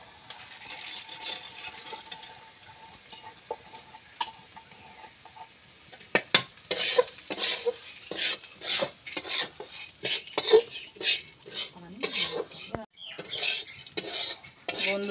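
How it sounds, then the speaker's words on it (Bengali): Red lentils added to fried onions in a home kitchen pan and stirred, with a run of loud, irregular scraping and clinking strokes of a spoon against the pan after a quieter opening, no talk. "পেঁয়াজটা ভাজা হয়ে গেছে, এবার আমি ডালগুলো দিয়ে দেবো।"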